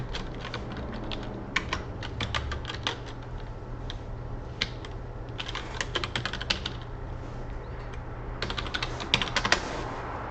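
Login details being typed on a computer keyboard, heard as rapid clusters of close, crisp key clicks with short pauses between bursts and a steady low hum underneath.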